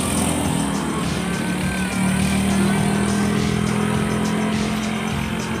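A DAMRI Mercedes-Benz bus with a rear-mounted engine runs steadily at idle, a continuous low droning hum with a faint whine on top, close and fairly loud throughout with no talking.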